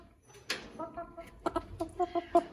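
Laying hens clucking nearby in a short series of bright, rhythmic clucks that quicken toward the end, with a brief soft voice in the background.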